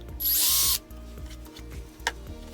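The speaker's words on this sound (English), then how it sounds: "And we'll run the screw down, and that'll create the threads in there" A power drill drives a screw into a part to cut threads: one short burst of high whirring, then a quiet knock, with no talking.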